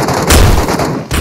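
Heavy weapon blasts in the Metro Royale shooter game, a dense burst of booming fire peaking mid-clip and continuing loud and close throughout.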